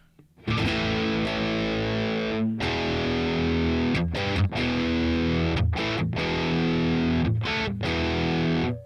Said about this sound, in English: Not bad clean sound. Classic crunch.